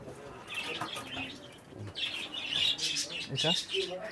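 Pigeons at a farm flutter and flap their wings in repeated bursts, with scattered soft coos and chirps nearby and low background murmur.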